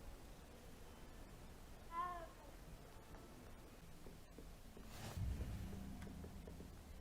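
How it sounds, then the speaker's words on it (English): A cat in the Hogwarts Legacy video game gives one short, clear meow, up close over a quiet ambient background, followed later by a soft rustle. "Oh, kitty cat."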